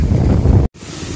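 Strong wind roars and buffets the microphone in heavy rumbling gusts, briefly cutting out before resuming.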